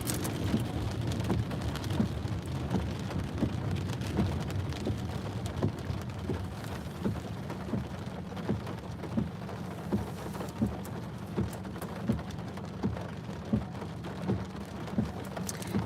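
Steady rain drumming on a car while driving, a dense continuous patter with sharper drops ticking through it and a low rumble underneath, close and even throughout with no voices.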